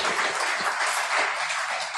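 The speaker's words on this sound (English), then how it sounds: "Ladies and gentlemen, a round of applause for Afande." A dense, steady wash of applause from a crowd at a formal gathering greeting an honoured guest, continuous and even in loudness with no talk over it.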